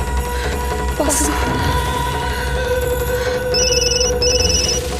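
A telephone rings with bright, repeated electronic trills in short bursts, heard over background music and drama sound effects.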